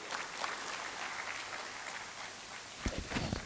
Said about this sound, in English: Can I have a huge round of applause for our chairman?